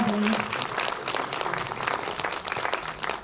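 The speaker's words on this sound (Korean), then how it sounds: "여러분 박수 부탁드려요" Audience applause at a Busan International Film Festival screening Q&A for the film Gigi Train, with crisp individual claps from a moderate crowd and a brief tone at the start, easing slightly before rising again.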